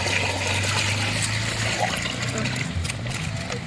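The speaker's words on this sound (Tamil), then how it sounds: "இப்போ தண்ணி ஊற்றி கழுவிக்கலாம்" Water pours and splashes over fish being washed before frying, a loud continuous gush with trickling underneath.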